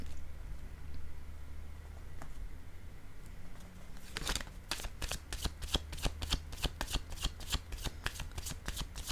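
A deck of cards is shuffled up close, first a short riffle and then a steady run of sharp, evenly spaced flicks and slaps, loud against a low room hum with no talking.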